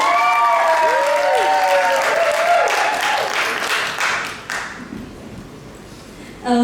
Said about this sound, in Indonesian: Bolehlah kita sambut dengan tepuk tangan yang hangat Kakak Meli.